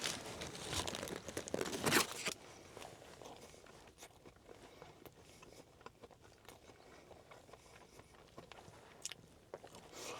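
Someone bites into a Culver's walleye fish sandwich, with crinkling wrapper and loud crunchy bites up close at first, then quieter chewing and faint rustles.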